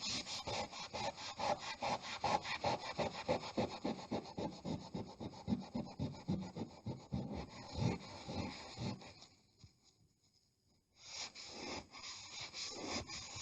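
Close, rhythmic back-and-forth rubbing as a cloth soaked in white spirit scrubs candle wax off a surface, with steady scratchy strokes, a brief pause near the end, then more rubbing, and no talking.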